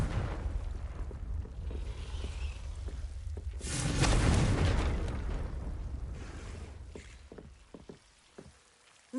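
Confringo blasting curse in Hogwarts Legacy, a burst that swells into a broad rumbling blast midway and slowly fades, with scattered small pops and crackles around it.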